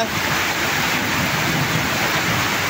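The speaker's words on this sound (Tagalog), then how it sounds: "Flash flood ito. Saglit lang na umulan. Ang lakas." Heavy rain pours down during a flash flood in the Philippines, a dense, loud, continuous hiss with a low rumble beneath, steady throughout.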